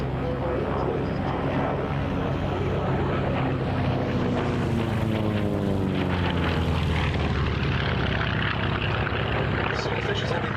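A Fairey Swordfish biplane flies past at the Battle of Britain airshow at RAF Duxford, its propeller engine droning loud and steady as it passes, with a Doppler shift mid-pass and a voice over it.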